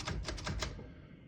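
Several quick mechanical clacks in a rapid row from a 1957 Royal Quiet De Luxe portable typewriter's backspace key, close and fairly crisp, fading into a brief metallic ring.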